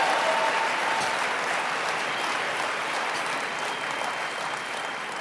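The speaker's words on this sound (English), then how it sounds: "Give yourselves a round of applause." Sustained audience applause at a motivational talk, a steady dense wash of clapping that holds at even strength and tapers only slightly toward the end.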